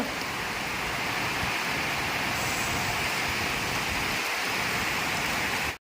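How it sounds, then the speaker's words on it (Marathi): Steady, heavy rain pours down throughout, a dense continuous hiss with occasional low rumbles underneath; no one speaks. "जोरो की बारिश आहे"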